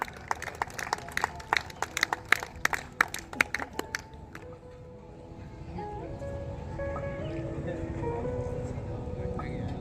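Scattered, fairly sparse clapping at a closing ceremony of a three-day inter-utility competition, fading after a few seconds into a steady murmur of crowd and ambient noise.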